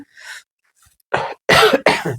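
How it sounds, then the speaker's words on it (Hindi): Several sharp coughs up close, one lighter cough, a pause, then three loud hacking coughs in quick succession. "सॉरी खांसी हो गया।"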